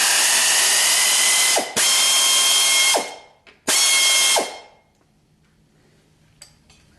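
Power tool whirring steadily at high pitch in long runs on a 1976 Corvette restomod bolt, held with a 9/16 inch wrench, stopping and restarting twice before falling silent.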